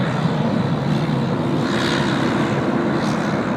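A Korean Air Boeing 787-10 airliner arriving from Vancouver lands on runway 34 right at Sydney Airport, giving a loud, steady, broadband engine roar that holds for the whole stretch with no talk over it.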